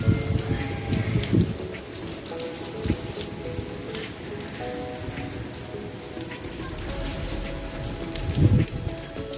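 Heavy rain pours steadily and loudly nearby, a dense continuous patter with occasional louder splashes.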